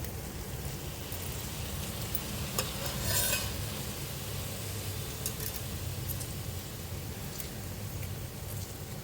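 A spoon stirs lemon through avarekalu and capsicum chitranna rice in a pan, making a continuous close scraping and rustling with a faint sizzle underneath and a brief louder scrape near the start, without any talking.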